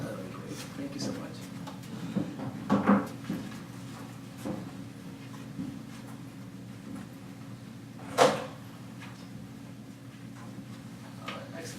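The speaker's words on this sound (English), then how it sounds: "Actually, Shimeen, could you actually close the door just so we don't get any background noise of people walking down the hall?" A door being shut in a hallway press conference room, giving a single firm thud near the start and another sharp bang a few seconds later against a steady room hum, with no talking.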